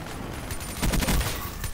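Bursts of automatic gunfire in the Black Ops 3 shooter, loud and close, swelling into a dense rattling volley mid-clip over a constant wash of game noise.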